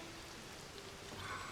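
Steady rain hisses down in The Legend of Zelda: Tears of the Kingdom, an even wash of falling drops heard alone for a brief moment.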